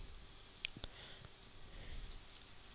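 A computer mouse gives two quick, faint clicks on an OK button in a quiet room, soft and close, with nothing else audible around them.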